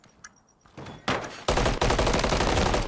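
Rapid bursts of gunfire from a competitive shooter esports match, Jersey Jackals versus Atlanta Pandas, starting faint with isolated shots and swelling into loud, sustained automatic fire that continues to the end.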